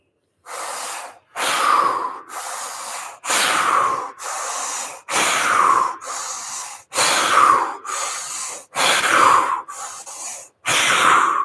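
Deep rhythmic breaths taken during a fascial stretching exercise, about ten long, loud breathy inhales and exhales close to the mic, each lasting roughly a second, with short gaps between them and no talking.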